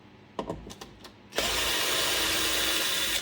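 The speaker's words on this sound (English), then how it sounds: "So we're going to use an electric screw for these" An electric screwdriver removes screws from a Technics SL-1210MK2 turntable. A few light clicks come first, then a loud, close, steady whirring for about two seconds.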